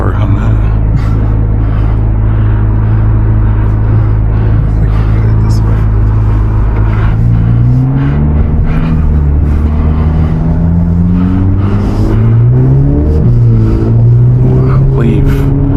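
A 2025 Corvette Z06 in sport mode accelerates and revs, its loud exhaust rumbling and rising in pitch through gear changes, heard from inside the car with talk over it.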